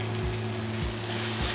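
Tomatoes sautéing in a pan for a Chettinad chicken curry give off a steady, close sizzle, with a low electrical hum underneath and faint stirring bumps.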